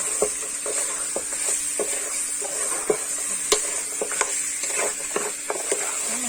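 Ingredients for an old-style Thai bamboo shoot clear soup stir-fried in a pan, giving a steady close sizzle broken by repeated sharp scrapes and clacks of a spatula against the pan, with no talking.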